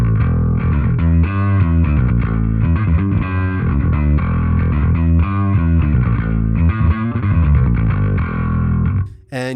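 A bass guitar runs through two stacked distortion plugins, giving a thick, fuzzy, gritty tone as a riff of repeated notes plays loud and steady, with no talking over it.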